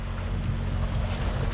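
A sailboat motors at sea off South Africa's coast, its engine droning as a steady low hum beneath soft wind and water wash, continuous and fairly quiet with no talking.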